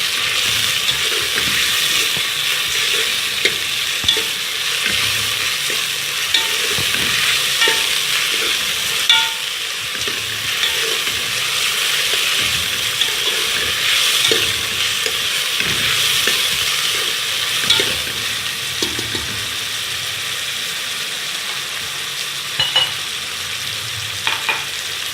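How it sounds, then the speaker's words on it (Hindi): Onions sauté in a pan for Pakistani shola khichdi, producing a loud, continuous sizzle with scattered spoon taps and stirring scrapes, close up and steady, with no voices. "प्याज को सौटे कर लें।"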